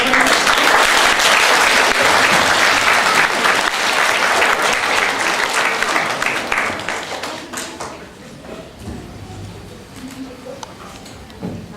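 Audience applause at a school pledge ceremony, loud and dense for about six seconds, then thinning into scattered claps with faint chatter as it fades.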